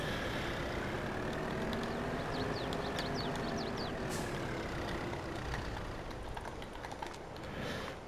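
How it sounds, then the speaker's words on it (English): A heavy Kubota tractor engine in Farming Simulator 22 drones steadily throughout, its pitch slowly rising and falling, with faint clicks and hisses over the rumble. "The engine sounds on these things are excellent."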